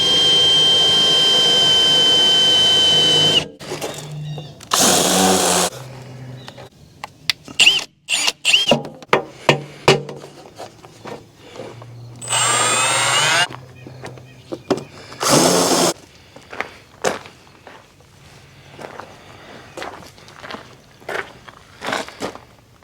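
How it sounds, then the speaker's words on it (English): A power drill whirs in several bursts while drilling holes in a log lift, one long run followed by shorter spurts, with knocks and handling noises in between. "Now to finish drilling the last 4,"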